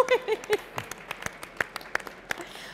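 Scattered handclaps from a small audience at an IT trends conference in Quebec, sparse and irregular rather than a full ovation, following a brief moment of speech at the start.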